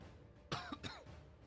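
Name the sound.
coughing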